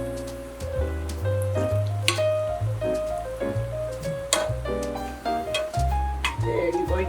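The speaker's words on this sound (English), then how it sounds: "So just let those fry." Fritters sizzle in a pan of hot oil with a steady crackling hiss, while background music plays and a voice talks over it.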